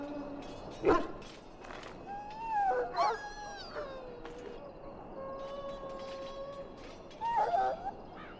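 A dog whimpers and yips in the fantasy video game Dragon Age: Origins, with several short, high, wavering whines and yelps spread across the moment over a faint background.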